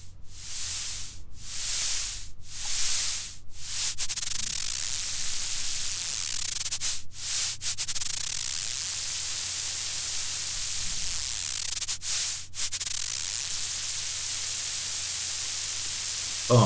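Loud, steady hiss of broadband noise from a modular synthesizer, broken by a few brief sharp dropouts near the start and again midway.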